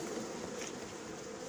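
A swarm of honeybees gives off a dense, continuous buzzing hum up close, with no voices over it.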